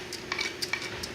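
Fenugreek seeds and a bay leaf fry in hot oil for a Mithila-style fish curry, a soft steady sizzle overlaid with a few brief spoon scrapes and clinks, close and quiet.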